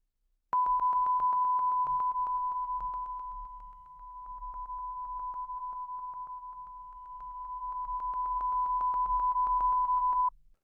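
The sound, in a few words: test tone level dropping as mic angle changes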